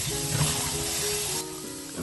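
Sepia tentacles frying on a hot plancha until crispy, giving a loud, steady, close hiss and sizzle that drops slightly in level near the end.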